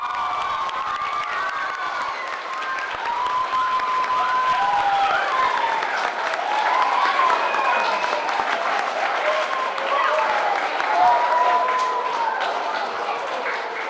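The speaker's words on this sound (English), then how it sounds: "thank you for that well-deserving applause" Audience applauding and cheering for women leaders at a school forum in the Abraham Lincoln School, with steady clapping and excited shouts, children's voices among the crowd, sustained and fairly loud throughout.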